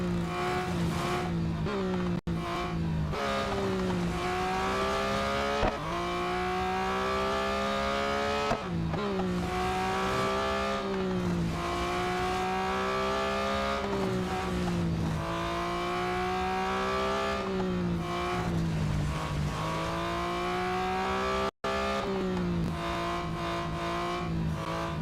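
A 2021 Porsche 911 GT3, fully upgraded, races in the mobile game Real Racing 3, its engine droning loudly throughout as it climbs through the revs, with repeated upshifts and brief dips between gears.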